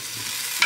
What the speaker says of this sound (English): so I am gonna stir them and kind of flip them over.